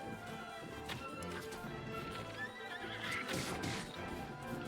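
In Zelda: Tears of the Kingdom, a horse neighs in a shrill, wavering whinny while hooves clip-clop steadily nearby, set over a soft game background and with no talking.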